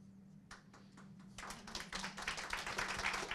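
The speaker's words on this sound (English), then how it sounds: "Thanks for the clap, everyone." Applause from an audience at a talk on animal protection laws starts with a few scattered claps, then swells into steady, fairly close clapping from a modest crowd that continues to the end.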